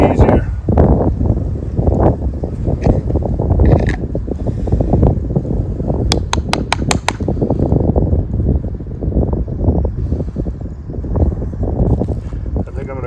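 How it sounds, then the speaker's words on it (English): Wind buffets the microphone outdoors during a fire-making attempt, with a steady heavy rumble running through the whole stretch and a few faint clicks in the middle. "And the wind is blowing on me."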